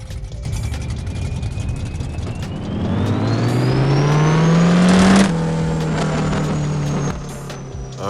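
A drag car in No Limit Drag Racing 2.0 launches and climbs through its gears with a loud, rising engine whine and a sharp shift near the end, then holds a steady high roar; no voices.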